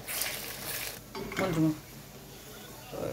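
Fish fries in a pan, a soft sizzle broken by stirring and the clatter of a utensil against the pan, with brief speech-like sounds in the background.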